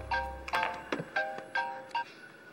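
An incoming call's phone ringtone plays as a faint, repeating melodic chime with bright tonal notes, a quiet low rumble underneath at the start, and no voices.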